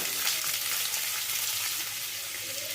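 Chopped onion and garlic frying gently in oil over a low flame for a small-fish chorchori curry, a steady, even sizzle with no voices, holding at a constant level throughout.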